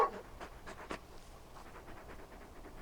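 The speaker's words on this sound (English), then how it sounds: "You're just a big puppy, aren't you? A very big puppy." A very large dog panting in Final Fantasy XVI, quick soft breaths repeating in a steady rhythm, close and fairly quiet with no voices over it.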